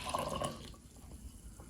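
Hot water pours briefly into a cup with a faint trickle that fades within a second, leaving a quiet background.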